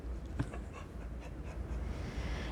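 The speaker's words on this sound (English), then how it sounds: "Now she's just panting everywhere." A dog pants in quick, soft breaths nearby, a faint, steady rhythmic huffing with a brief whimper-like sound near the start.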